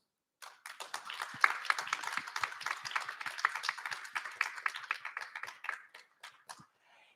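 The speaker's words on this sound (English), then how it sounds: "give them a big round of applause" A modest audience at a law conference panel claps in a brief, fairly quiet round of applause, with individual hand claps distinct as it builds, holds for several seconds, then trails off to silence.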